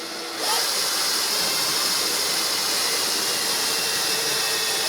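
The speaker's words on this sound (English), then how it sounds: "So first of all, drill and just take a corner out." A power drill whirs steadily at high speed, drilling a corner out of plastic, starting abruptly after a brief quiet moment and running continuously up close.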